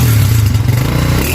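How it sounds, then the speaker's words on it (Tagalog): A motorcycle exhaust drones steadily at close range, a low rumbling idle with a slight rattling clatter, loud and unbroken with no talk over it. "Yan yung tunog yung tambutso."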